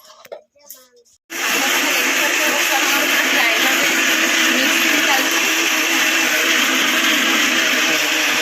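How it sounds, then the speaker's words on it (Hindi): A mixer grinder loaded with rice, flattened rice and fenugreek starts abruptly after a few rattling knocks and then runs continuously with a loud, steady whirring roar at close range. "एबे ताको सब गुडा को मिक्सिंग करी कि पूरा ग्राइंडर रे पेसी दबा"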